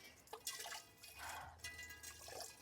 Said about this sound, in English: So I'm just pressing on the foot pump.